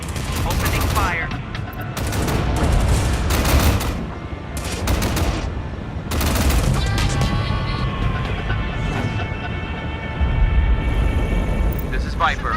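Repeated bursts of gunfire from units opening fire in Tom Clancy's EndWar, a military strategy video game, crackle in clusters over a steady low rumble while voices talk throughout.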